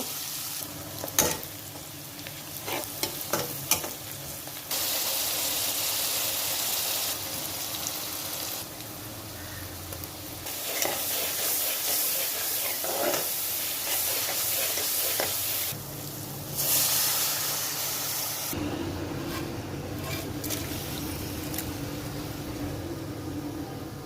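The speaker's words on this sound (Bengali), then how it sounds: "এই তেলের ভিতরেই পেঁয়াজ ভাজি করব" Onions fry in hilsa fish oil with a steady, broadband sizzle throughout, punctuated by stirring clatters and shifts in intensity as the pan is worked; no one speaks.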